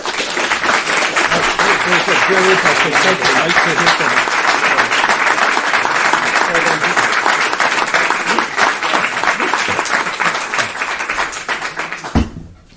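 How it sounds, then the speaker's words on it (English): Audience applause for the panelists at a political panel discussion rolls on as dense, even clapping for about twelve seconds, then stops abruptly. Brief talk surfaces near the end. "Thanks to our panelists for, after a very busy night last night, taking time to join us, and a round of applause."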